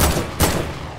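Video game gunfire, a brief loud burst of shots with a sharp crack partway through, close and alone.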